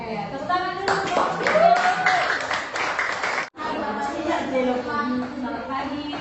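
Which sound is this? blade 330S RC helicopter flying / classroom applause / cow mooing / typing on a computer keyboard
classroom applause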